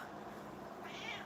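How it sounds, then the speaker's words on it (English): A house cat gives a single rising meow near the end, moderately close over a steady background hum, with no talking at that moment. "She's a good cat."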